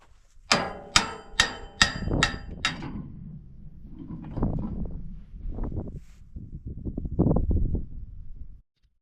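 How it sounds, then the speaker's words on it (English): An old post is pounded out with a hammer, about six sharp, evenly spaced metal strikes close up, followed by duller knocking and scraping thuds before it stops. "I'm gonna try to pound it out and see if I can't find another post about the same size."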